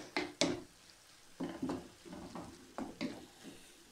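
A tomato purée filling for choux pastry cooking in a pan, heard as soft sizzling with intermittent spoon scrapes and clinks of stirring against the pan, close and fairly quiet.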